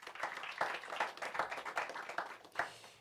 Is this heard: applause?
yes